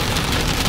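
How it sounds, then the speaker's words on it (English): Rain falling during a day out at New York Fashion Week, a dense, steady hiss of drops hitting surfaces, loud and continuous across the whole brief moment with no voices. "just like that, the rain has started"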